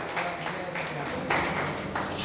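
Steady clapping from a classroom audience greeting a student selected in IIT exams, a continuous wash of hand claps with a few louder bursts, with a voice talking over it.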